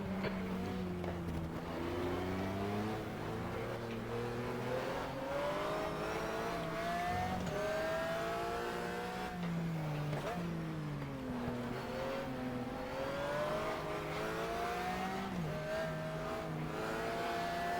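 Race car engines in the GTR2 racing game roar continuously, rising and falling in pitch through gear changes and acceleration, loud and sustained across the whole stretch with no talk over them.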